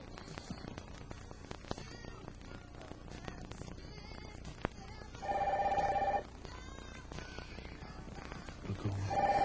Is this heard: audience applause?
no